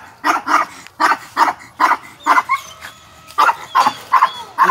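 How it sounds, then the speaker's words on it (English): A dog barks repeatedly in quick pairs of sharp, fairly close barks with short pauses between, heard across a garden of carrots and peppers with no talking. "Yes, there's a dog over there on the other side."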